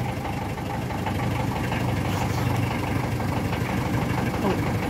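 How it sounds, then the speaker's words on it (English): An Austin FX4D London taxi's diesel engine idles steadily after a cold start, a close, continuous low chug with a slight knocking texture that holds even for the whole stretch. "And allow the engine to warm up."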